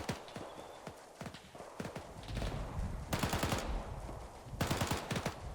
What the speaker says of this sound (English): I can hear the machine guns going off